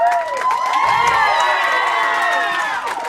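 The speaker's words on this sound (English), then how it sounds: "They're screaming so loudly for you, John." A large crowd of fans screams and cheers for Thirty Seconds to Mars at a Radio 104.5 studio session, a loud sustained wall of high shrieks and whoops that barely lets up.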